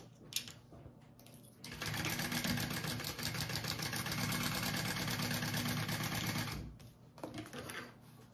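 A sewing machine runs steadily for about five seconds, stitching a bag seam at the seam allowance, its fast rhythmic mechanical whir starting and stopping abruptly, close and clear with no talking.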